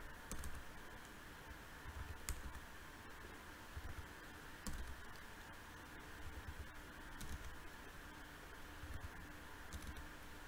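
Numbers typed on a computer keyboard: faint, scattered key clicks in short bursts over a steady low fan hum, no talking.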